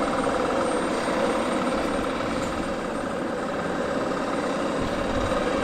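easyJet airliner on final approach at Southend Airport, a steady broad engine roar and whine that holds constant throughout, moderately loud with no talk.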